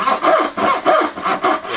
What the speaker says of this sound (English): We are sawing right next to it.